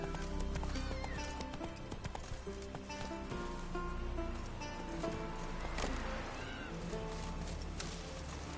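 Roach, a horse in the video game The Witcher, gallops with steady rapid clip-clopping hooves and gives a neighing whinny, set against a tonal game soundtrack.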